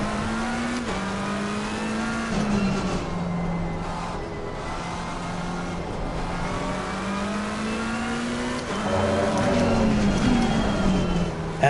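A GT race car engine in Assetto Corsa Competizione at Laguna Seca howls continuously, pitch rising and falling through gear shifts, loud and close throughout, with faint voice beneath.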